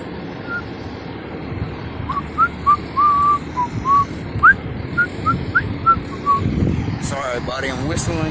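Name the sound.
person whistling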